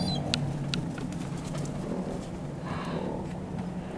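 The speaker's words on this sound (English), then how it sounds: "I'm happy feeding my favorite seagull bird, but this time there's so many coming in here." Gulls gather on a rooftop as bread is tossed to them, with a few short, sharp calls breaking through a steady outdoor background of wind and distant noise.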